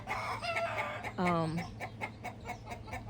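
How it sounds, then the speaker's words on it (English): Several Colombian rock cross chickens cluck and call nearby around a coop, a drawn-out squawk rising in the middle among quicker repeated clucks, with soft speech-like sounds in the background. "There is Lily, the Colombian rock cross, underneath the coop floor, which I haven't taken out yet"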